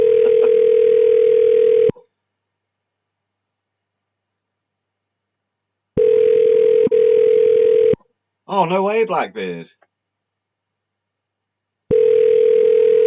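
A phone line rings out unanswered on a call, long steady tones of about two seconds repeating with gaps of silence, loud and close; a voice speaks briefly between rings.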